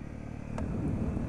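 A Honda CRF250L dirt bike engine idles low and steady at close range, its throttle eased on and off during a slow dirt ride, with a brief sharp click partway through.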